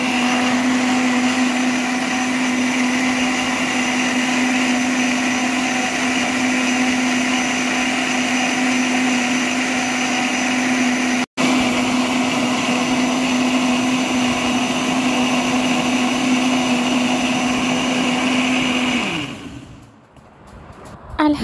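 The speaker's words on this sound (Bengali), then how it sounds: "একটু চিনি কম হয়েছিল তাই আমি চিনি দিয়ে আবার একটু ব্লেন্ডারে ব্লেন্ড করে নিচ্ছি" An electric blender whirs at full speed, mixing raw mango juice with added sugar; a loud, steady motor drone holds for about nineteen seconds, briefly cutting out once, then winds down and stops near the end.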